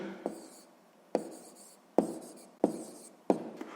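Pen or chalk strokes while writing down a math answer, five sharp scratching taps spaced unevenly across a few seconds, close and moderately loud in a quiet room with no talking.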